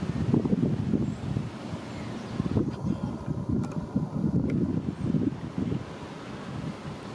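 Steady wind roars over the microphone beside a lake where a model Nimitz-class aircraft carrier is sailing, a continuous gusty rumble with faint water movement and no talk.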